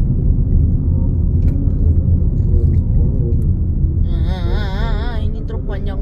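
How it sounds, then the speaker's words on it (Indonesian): A long truck passes on a wide highway near Cikampek, a loud continuous road rumble with a rising whine and wavering tonal engine notes toward the end. "ini truk panjang banget."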